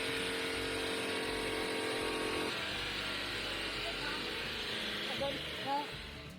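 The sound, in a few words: Mazda engine running rough with one spark plug missing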